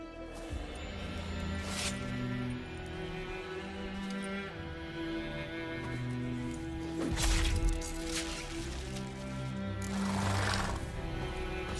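Horses in The Witcher 3 video game whinny and snort over a steady ambient game backdrop, with a few louder bursts near the middle and end and faint hoof clops, no talking.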